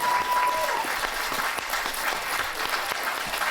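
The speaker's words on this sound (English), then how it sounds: "Give them all a round of applause." Steady, dense applause from a wedding crowd after speeches, continuous and fairly loud throughout with no pauses.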